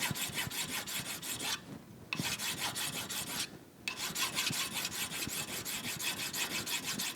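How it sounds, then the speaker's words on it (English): Hand filing to smooth and dress the radius on a fabricated bronze crank arm for an 1894 giraffe bike, close, steady rhythmic rasping strokes with two short pauses, no talk. "So I'm going to dress that out so it blends in and it just looks like a perfect radius. And I'm just smoothing it out."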